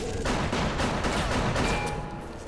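Rapid gunfire in the shooter Bioshock, dense overlapping shots forming a continuous loud fusillade for a couple of seconds.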